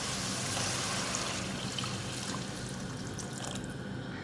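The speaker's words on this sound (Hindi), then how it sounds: "अब इसमें पानी शामिल करूँगी।" Water is poured into a pot of sautéed peas and spices for matar chawal, about three cups for basmati rice, giving a continuous splashing, trickling pour at close range with no talking.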